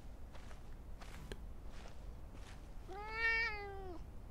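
A cat meows once, a clear rising and falling call near the end, in the video game Fallout London, preceded by a few soft footstep-like taps with no talk.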